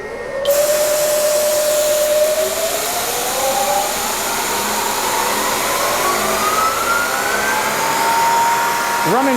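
Bridgeport CNC mill spindle cutting at 4,200 RPM, near top speed, a loud steady whine with a rising tone over a broad hissing roar, continuous and close, with no talking.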